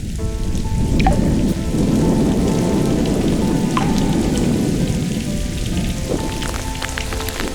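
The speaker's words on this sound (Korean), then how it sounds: "마른 땅을 적시는 반가운 비." Steady rain falls on dry Gobi desert ground during the summer rainy season, a loud continuous hiss of drops with a few faint higher chirps or calls over it and no speech.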